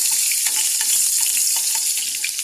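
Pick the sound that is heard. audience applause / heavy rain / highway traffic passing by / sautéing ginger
sautéing ginger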